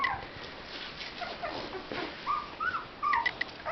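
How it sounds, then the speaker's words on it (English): Faint, high-pitched puppy whimpers and squeaks come in a few scattered bursts, growing a little more frequent toward the end, with no voices. "Here are the Chloe Caride puppies. They're 19 days old today."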